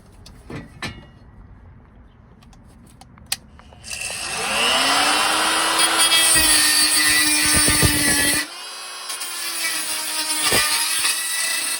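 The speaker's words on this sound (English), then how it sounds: "I used my cutoff tool to grind down those vertical posts that were right there" A cutoff tool grinds down the vertical tabs on a lithium golf cart battery, starting after a few faint clicks and whining loud and steady for several seconds, then dropping to a lower, rougher grind.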